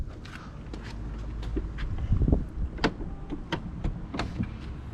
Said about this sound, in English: if you don't shut in the door or you don't shut it all the way, it sucks in the door for you.